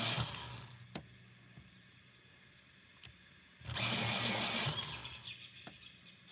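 A brown colored pencil is sharpened in what sounds like a powered sharpener: a single loud grinding whir of about one second, between quieter faint clicks and taps.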